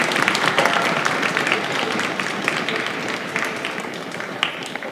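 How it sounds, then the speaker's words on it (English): An audience of parents and family members at a school strings celebration applauds, a dense, steady wash of clapping that stays fairly even for the whole stretch, with faint voices mixed in. "Students, will you please give your parents and family members a round of applause?"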